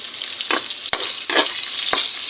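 Onions sautéing in hot oil with browned garlic for pakbet, a loud steady sizzle broken by a few scraping stirs of the spatula, close up with no talking.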